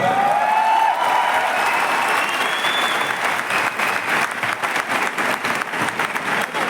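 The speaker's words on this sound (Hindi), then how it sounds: "हमारे ब्रॉन्ज डायरेक्टर्स के लिए बहुत ज्यादा जोरदार तालियां।" An audience at an award event applauds bronze directors, with loud, dense clapping that continues steadily throughout while a faint tone fades out at the start.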